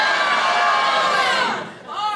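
A comedy club audience shouts their own names all at once, a loud, jumbled burst of overlapping voices that swells together and then trails off near the end.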